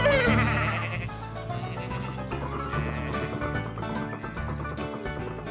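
Cartoon sheep bleat repeatedly over light background music in a children's animated show, several wavering calls in close succession, fairly loud and near.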